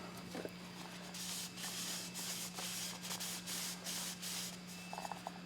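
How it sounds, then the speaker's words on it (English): Steady hissing bursts of carburetor cleaner spray in short pulses over a constant low mechanical hum, close by, with faint rubbing in between, during an oil and filter change on a Porsche Cayenne 4.8L V8. "And then we can clean where it sits with some carburetor spray or similar fluid."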